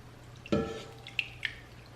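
Wet homemade paper pulp spread by hand, giving a soft squelchy slap followed by two faint wet drips, close and alone over a low background hum.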